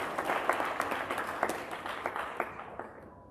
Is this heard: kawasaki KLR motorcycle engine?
no